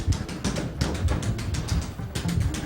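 Street Fighter arcade machines clatter loudly, with dense rapid button and joystick tapping, game sound effects and continuous busy noise from close by.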